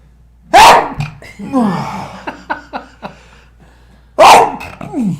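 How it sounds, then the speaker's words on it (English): Two loud, explosive allergy sneezes nearby, several seconds apart, with soft murmured voice sounds in between. "Sorry, I have to sneeze."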